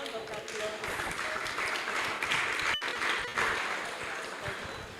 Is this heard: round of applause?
yes